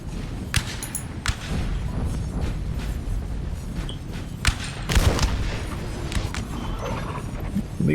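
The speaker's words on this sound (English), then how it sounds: "We got artillery up there." A 9-pounder artillery piece fires in a Napoleon Total War battle, heard as scattered distant booms and thuds over a steady rumble of battlefield noise.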